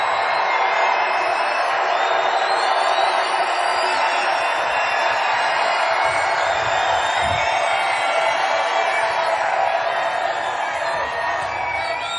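A large crowd at a Donald Trump rally in Denver, Colorado, cheering and roaring in a steady, dense wash of voices with scattered whoops, loud and sustained throughout.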